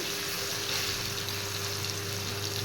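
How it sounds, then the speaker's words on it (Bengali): Three medium chopped onions frying in a pan, a steady broadband hiss and sizzle holding at an even level throughout, with a low hum underneath and no talking. "এবার পেঁয়াজগুলো আমি একটু ফ্রাই করে নেব"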